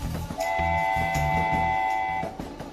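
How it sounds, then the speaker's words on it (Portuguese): A train passes with a sustained two-tone horn blast over a rhythmic low rumble and clatter of wheels, loud and close, with no talking. "Trem."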